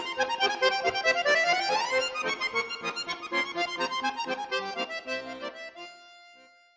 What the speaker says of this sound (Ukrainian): Правильно, це баян.